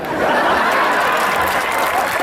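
An audience at a poetry gathering claps in sustained, dense applause, steady and fairly loud throughout, with a hint of laughter mixed in.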